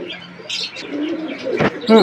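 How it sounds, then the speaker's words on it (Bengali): Pigeons that have just been released coo and chirp while busy feeding, the calls fairly close, mixed with brief rustles and faint background noise. "পায়রাগুলোকে মোটামুটি সব ছেড়ে দিলাম, সব খাওয়ায় ব্যস্ত।"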